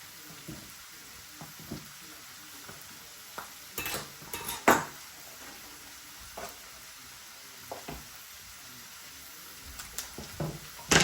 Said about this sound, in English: Chicken is simmering